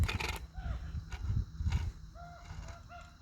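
Birds squawking along a hiking trail, several short harsh calls scattered across the moment against wind and rustling, fairly close and moderately loud.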